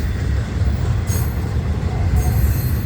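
A freight train of flatbed cars loaded with goods rolls past a grade crossing, a continuous loud rumble of wheels on rail with brief high squeals cutting in twice.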